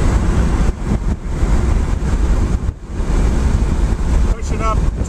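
A Porsche 914 with an electric conversion pushing past 70 mph on the road, its motion buried under a loud, steady roar of wind rushing over the car, with brief dips in the noise.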